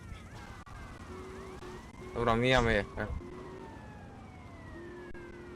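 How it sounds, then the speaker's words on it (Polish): A police car siren wails in the GTA Liberty City Stories video game, steady rising and falling tones held throughout at moderate level, with a burst of loud game action and someone speaking in the middle. "Policja."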